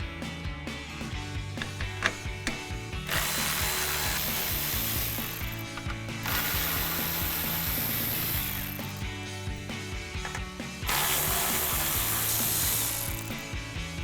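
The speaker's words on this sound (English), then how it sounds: "we're going to use our 10mm socket to do that" A ratchet with a 10mm socket clicks rapidly while backing out headlight bolts on a 2009-2014 Ford F-150, close dense pawl chatter in bursts with brief pauses between turns.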